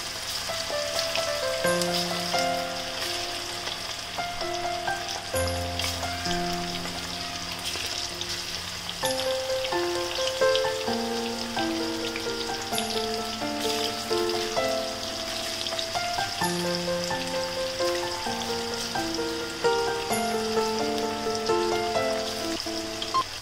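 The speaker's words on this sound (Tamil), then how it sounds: "இப்போ இந்த பீசஸை போட்டு ஃப்ரை பண்ணி எடுத்துக்கலாம்" Fish pieces fry in oil over medium heat, sizzling and crackling steadily with a continuous bubbling hiss and faint musical tones playing in the background.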